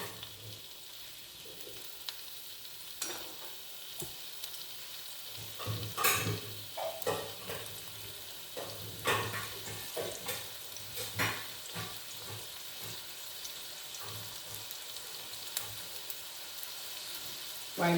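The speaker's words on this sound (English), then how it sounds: "I have to just keep frying this directly, this tender jackfruit." Tender jackfruit fries in sunflower oil in a pan, a soft steady sizzle broken by occasional stirring scrapes and clinks, fairly quiet and close, with no talking.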